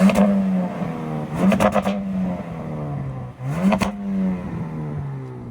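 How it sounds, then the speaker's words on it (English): A 2025 Ram RHO pickup truck engine revs up and falls back twice, with sharp crackling backfire pops from the exhaust on each rev, loud and close. "when that thing backfires, that's loud."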